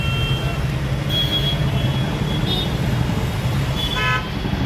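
Heavy traffic jam on a national highway at a toll checkpoint near Wankaner, with a steady roar of idling cars, trucks and buses and several loud, close car horn toots cutting through.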